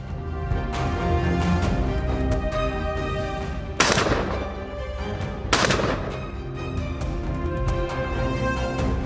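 Rifle fire during a wild boar hunt in Manitoba: two sharp shots stand out against a dense, continuous background of other sound, with no talking.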